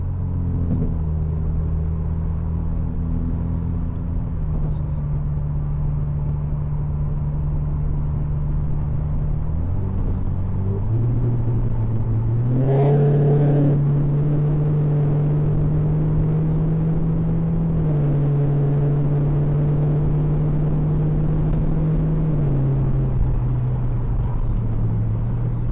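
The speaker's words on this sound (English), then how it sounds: "I like to hit 120 sometimes just to see if my car can still do it." A car driving along a road, a steady close engine drone and tire rumble with the engine pitch stepping up and down as it shifts, continuous throughout with no talking.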